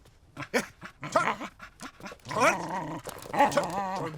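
A dog growls and snarls while attacking, rough bursts of growling mixed with strained yelps and a pained human cry, close and agitated.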